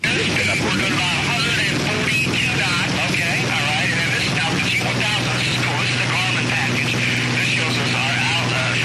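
A continuous loud cabin roar of an aircraft engine in flight, unbroken and steady, with muffled voices faintly mixed under the drone.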